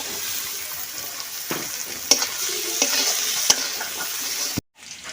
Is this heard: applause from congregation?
no